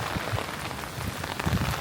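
Steady rain falls outdoors in Australia, a broad continuous hiss with scattered low patters and drips close by, with no voices.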